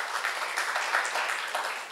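A church congregation at a Sunday service claps together in a thick, continuous burst of applause that stays loud and even through the brief moment.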